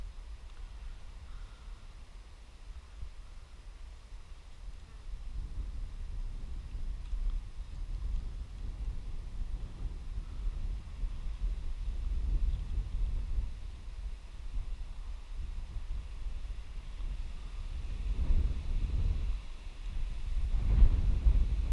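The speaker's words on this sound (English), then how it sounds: "But it is pretty windy today." Low, gusty wind rumbles outdoors during ferreting for rabbits, faint at first then swelling in uneven gusts, with a stronger buffet near the end.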